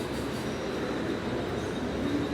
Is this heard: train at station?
yes